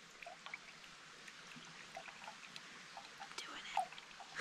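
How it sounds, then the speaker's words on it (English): A backpacking water filter in use on a woodland trail, water trickling and dribbling through it in a faint, steady stream with small drips and splashes, quiet and close. "Look at Asya using her water filter for the first time."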